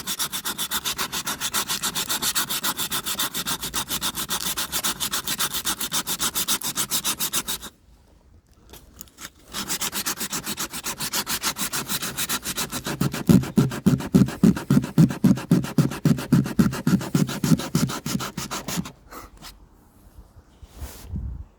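Hand sanding of a new boat hull under construction, a steady close rasping scrape in fast regular strokes, pausing briefly, then resuming louder and heavier with a pulsing back-and-forth rhythm before trailing off.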